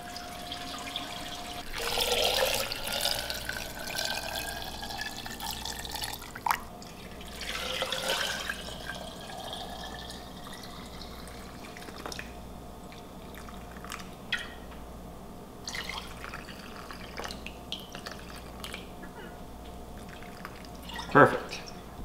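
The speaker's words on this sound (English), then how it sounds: "So we're gonna put the saltwater solution in our jars and let them sit for 24 hours." Saltwater brine pours and drips into jars of cucumbers being set up for pickling, a trickling, splashing flow with bursts near the start and scattered drips, while a person talks quietly over it.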